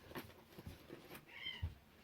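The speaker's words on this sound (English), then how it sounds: "The cats are having a cat fight today." Cats fighting let out short, scattered meows and yowls, faint and close in a quiet room, with no talk.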